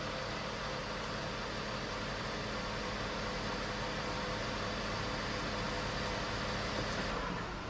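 Engine of a 2021-or-newer Chevy Trailblazer running steadily after restarting with a freshly cleaned throttle body, a constant low idle hum with an even whooshing drone, no talking.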